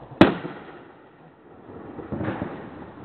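A backyard fireworks show: one sharp, loud explosion rings out, followed a couple of seconds later by a softer, more distant burst.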